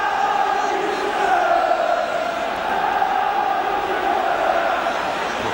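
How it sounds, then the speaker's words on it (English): Large football stadium crowd at a 1984 UEFA Cup quarter-final, Tottenham vs. Real Madrid, roaring and chanting in a steady, loud, dense wash throughout with no speech over it. "The crowd urging Tottenham to knock the ball in quickly."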